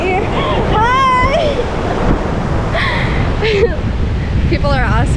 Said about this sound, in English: These waves are so harsh.